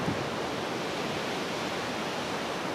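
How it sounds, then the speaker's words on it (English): Rushing river water in Patagonia, a steady, loud, broadband roar of fast-flowing water with no let-up, heard alone and close by. "the river makes a lot of noise"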